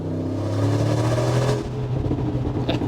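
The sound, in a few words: Brabus G-Class 700HP G-Wagon engine revving at full throttle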